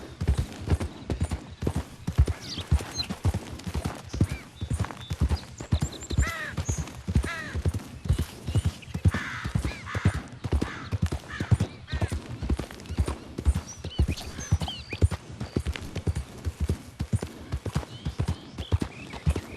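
Horse hooves clip-clopping at a steady, even rhythm in Red Dead Redemption 2, close and loud with an occasional faint snort or whinny, no talk.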